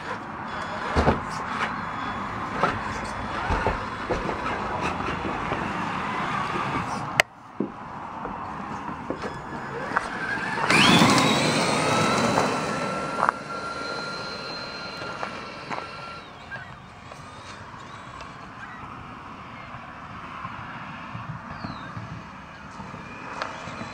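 A Traxxas Summit RC truck fitted with metal driveshafts and a 62-tooth spur gear drives outdoors, with broad rough rolling noise throughout and a rising electric motor whine that surges mid-run.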